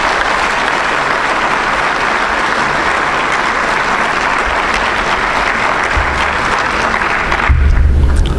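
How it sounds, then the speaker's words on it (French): An audience of young volunteers claps loudly and steadily in a large room, a dense sustained round of applause that swells slightly near the end. "Je vous demande de vous applaudir vous-même."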